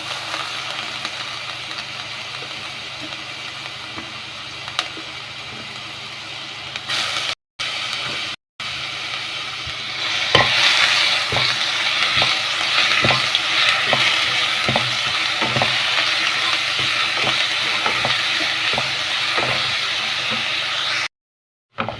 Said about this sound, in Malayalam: എണ്ണ നന്നായിട്ട് ചൂടായി വന്നിട്ടുണ്ട് നമുക്ക് അരച്ച് വെച്ച ഇഞ്ചി പേസ്റ്റ് ഇട്ട് കൊടുക്കാം